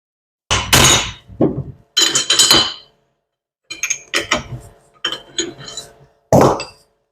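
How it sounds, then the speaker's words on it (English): A 3/4 inch socket and extension being hammered onto a leakless water pump nut: a series of loud, close metallic strikes and clanks that come in separate clusters with short pauses between them. "three-quarter inch socket and an extension down this way to punch this thing through"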